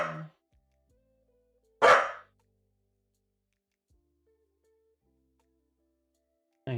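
A puppy gives two or three sharp, loud barks and yips separated by long quiet gaps, close by.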